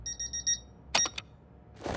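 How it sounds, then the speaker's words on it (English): A cartoon alarm clock rings in short rapid electronic beeping bursts, followed by a few sharp clattering knocks and then a rising rustle, all fairly quiet with no speech. "I set the alarm for the wrong time"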